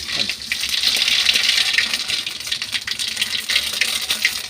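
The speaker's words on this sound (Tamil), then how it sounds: "இப்போ இந்த தண்ணியெல்லாம் நான் வடித்து எடுத்துடுறேன்." Water drains and gushes from a pot of boiled cluster beans in a home kitchen, a steady splashing stream close by.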